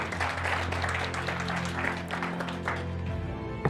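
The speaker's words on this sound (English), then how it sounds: "Let's give them a round of applause." An audience at a circle leaders' graduation ceremony claps in steady, warm applause, many hands heard together at moderate volume, with a low hum of the hall underneath.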